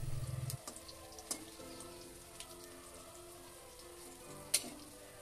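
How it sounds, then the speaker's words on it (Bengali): Cauliflower pakora fries in refined oil in a pan, giving a quiet, soft sizzle broken by a few sharp pops and light clinks, with no voices. "এভাবে উল্টে পাল্টে কিন্তু আমি ফুলকপির পকোড়াটা ভেজে নিচ্ছি।"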